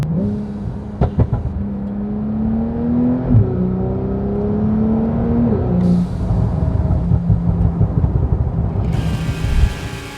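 A Porsche 911 Turbo S (992) with a valved sport exhaust revs hard, its pitch climbing and falling in steady sweeps, with a loud sustained exhaust roar and sharp booming bursts near the end.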